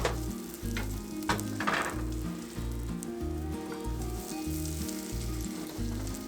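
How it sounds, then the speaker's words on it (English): About half a teaspoon of butter melts in a heating pan, a soft steady sizzle with a few brighter crackles early on, over a low rhythmic musical backdrop. "Next I have my pan heating and I'm just going to add about a ½ teaspoon of butter. And I'll just let that melt."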